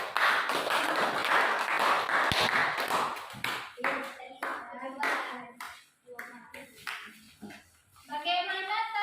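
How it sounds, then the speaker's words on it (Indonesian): A classroom group claps together for a student team, a dense burst of hand claps in the first few seconds that gives way to children's voices talking and a teacher speaking. "tepuk tangan dulu untuk kelompok Fatona."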